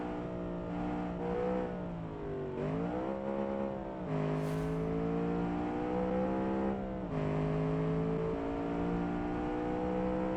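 A naturally aspirated 4.6 liter V8 race car in a Le Mans racing sim revs and shifts repeatedly, loud and close, its pitch climbing and dropping through several gears, with no talking.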